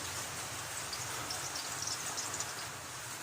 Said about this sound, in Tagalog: Maulan na umaga sa inyo